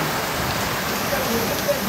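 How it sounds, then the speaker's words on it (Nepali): Rain mixed with hail pours down in Pokhara as a steady, dense hiss of drops striking surfaces, continuous and even from start to finish. "असिना पनि पऱ्यो नि"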